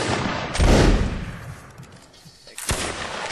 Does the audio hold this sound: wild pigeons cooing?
no